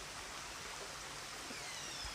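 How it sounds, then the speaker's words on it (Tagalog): Small waterfall at Busay Falls in Malilipot, Albay, heard as a steady, even wash of falling water, soft and continuous with no voices. "Andun yung falls, maliit lang yung falls."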